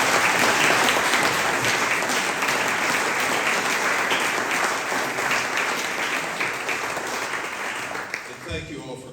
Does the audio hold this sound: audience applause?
yes